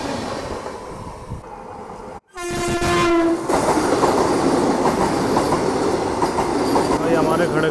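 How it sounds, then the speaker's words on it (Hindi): A train passes at an Indian railway station, with a horn blast followed by steady loud rumbling and clattering of wheels and carriages close by. "ये देखो अब तीसरी ट्रेन पास हो रही है यहाँ से।"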